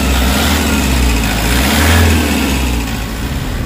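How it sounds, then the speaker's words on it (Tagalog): Toyota Hiace van engine running steadily after an oil change and treatment, a close, continuous low rumble that swells slightly midway, with no voices. "Saka yung makina, tingnan mo gumana lang."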